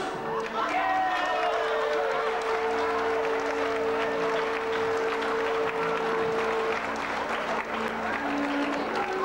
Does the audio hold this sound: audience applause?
yes